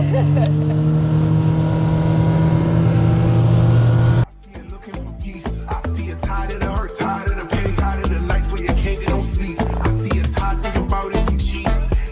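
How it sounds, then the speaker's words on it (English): A speedboat engine runs in Jamaica, first as a steady tonal drone, then abruptly switching to a rough, pounding roar with rhythmic thumps as the boat moves across the water, loud and close throughout. "So guys, we just got on our speedboat."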